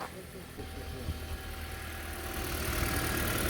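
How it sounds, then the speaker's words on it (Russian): A Toyota Prius 30 engine idles just after starting, following a diesel misfuel, producing a low steady hum that grows slightly louder over the short span, with no talk heard. "Ну вот, запустил двигатель."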